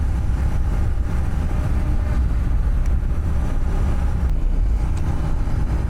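A Royal Enfield GT650 motorcycle rides along a road at night, its engine drone and wind roar forming a loud, continuous rumble that stays steady throughout.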